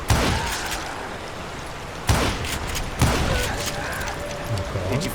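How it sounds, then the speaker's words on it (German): Gunfire in the Western shooter video game Call of Juarez: Gunslinger, three sharp loud shots with ringing reverberant tails, spaced a second or so apart, over background game ambience and faint talk. "Aber gerade hier gleich wieder irgendwo aus irgendwelchen Ecken geschossen."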